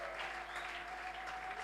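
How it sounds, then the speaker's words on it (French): Church congregation at a Sunday worship service applauding, a steady wash of clapping with a faint sustained tone underneath, fairly quiet and distant. "Nous recevons la parole du Seigneur avec des acclamations, des cris de joie."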